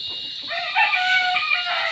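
Pet fighting roosters crowing and clucking close by, a bright drawn-out crow rising over scattered clucks across about two seconds, with no talk.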